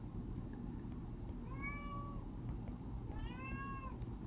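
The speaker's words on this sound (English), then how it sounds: "I apologize for my cat." A pet cat lets out two drawn-out, wailing meows, close by and fairly clear over a steady low background hum, with no talking.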